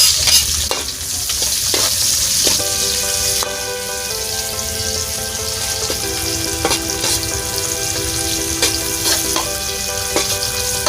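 Garlic and onion frying in a pan with steady broadband sizzle, a utensil stirring and scraping through it with repeated clinks and knocks, close and continuous with no talk.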